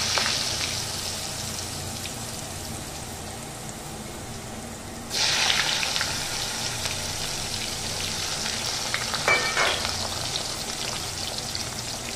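Diced potatoes hit hot oil tempered with cumin, setting off a steady, close rain-like sizzle that jumps louder midway as more pieces land, with a brief scrape of stirring near the end.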